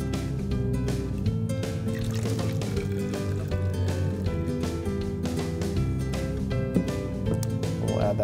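Instant coffee dissolved in water pours into a graduated cylinder during a classroom ice core demonstration. The liquid gurgles steadily and continuously under a sustained tonal background.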